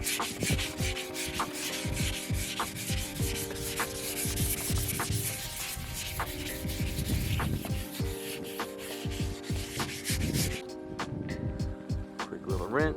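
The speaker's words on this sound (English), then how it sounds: "Just did a wet sand of 500 grit until everything was smooth." Wet sanding car paint on a Civic wagon with 500 grit sandpaper, close, rhythmic rubbing strokes that scrape back and forth steadily, with a voice heard briefly in the middle.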